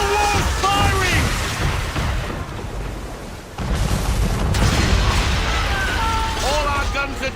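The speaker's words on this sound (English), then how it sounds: "Man of war firing!" A man-of-war warship fires its cannons in the naval game Assassin's Creed 3 Remastered, with deep, rumbling booms amid continuous battle noise and a brief drop midway. Voices shout over the din.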